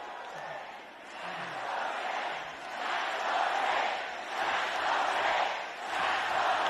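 A fired-up rally crowd chants "tax the rich" in rhythmic, swelling waves, the massed voices loud and fairly close, with no single speaker breaking through.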